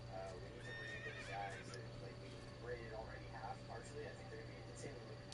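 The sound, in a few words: horse neighing in a video game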